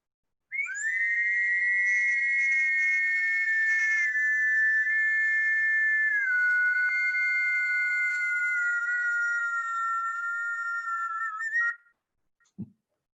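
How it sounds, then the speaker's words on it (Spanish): A small silbador whistle instrument sounds a sustained, slightly wavering pure tone with close beating overtones for about eleven seconds, near and loud, then cuts off before a brief soft thump. "Es un silbador."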